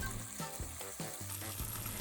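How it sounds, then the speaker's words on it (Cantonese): An egg fries in a hot wok while Penang char kway teow is being made, giving a steady, close sizzle with faint pulsing crackles and no voices. "落蛋之後嘅10秒唔好喐佢，俾佢定型，可以落啲豉油俾佢有啲底味。"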